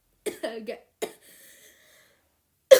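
A few short, close coughs burst out, followed by a faint breathy sound and a brief spoken word.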